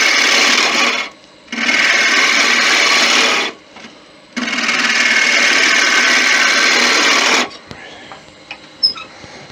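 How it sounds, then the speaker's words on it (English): A ball gouge cutting wood on a lathe while turning a Christmas angel, loud close rasping shearing in three long sustained passes with brief gaps, then the lathe running quieter with small knocks. "We go to a smaller ball gouge for this."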